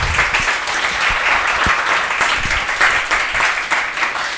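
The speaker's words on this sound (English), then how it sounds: "A huge round of applause for sir" An audience gives a guest speaker a big round of applause at a leadership skills session held at an educational society: dense, steady clapping from many hands that fills the clip at a constant level.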